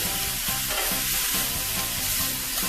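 Steak cooked medium rare sizzles loudly and steadily in a hot pan, a dense continuous crackle with no voices over it.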